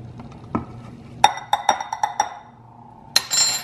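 Spoon stirring Bird's custard powder with a little milk into a paste in a bowl, giving a short run of distinct clinks against the dish, loud and close, with a quieter scrape before and a final clink.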